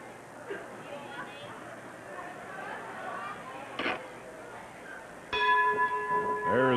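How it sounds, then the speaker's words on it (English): A ring-side bell at a 1980 Portland professional wrestling match rings out once, bright and ringing with a long tail, over steady crowd murmur and an announcer's commentary. "There is the bell."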